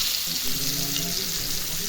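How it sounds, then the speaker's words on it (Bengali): Chicken pieces frying in hot oil in a pan, a steady loud sizzle with crackling and spattering, close up and without talk. "তো দেখুন আমি ভাজতেছি"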